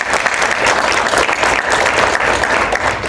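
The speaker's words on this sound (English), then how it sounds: "Give them a round of applause" Loud, close applause from a live panel-discussion audience, dense and continuous clapping throughout without a break.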